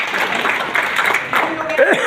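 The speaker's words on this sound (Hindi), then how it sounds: "मैं चाहता हूँ अपने लिए एक बार जोरदार तालियां बजा दीजिए।" Audience applause fills a hall, a dense, steady wash of clapping lasting the whole stretch with voices talking over it.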